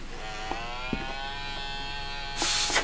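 Steady tonal buzz from a Microsoft Surface Pro's cooling fan, close and continuous with a few faint clicks, growing harsher near the end.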